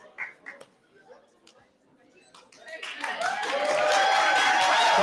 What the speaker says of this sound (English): Applause for Anna, please.